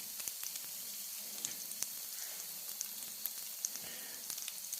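Smash burgers of mixed wild pork and deer meat sizzle alongside bacon on a hot cooking surface, giving a soft, steady hiss and crackle sprinkled with small pops, fairly quiet and without speech.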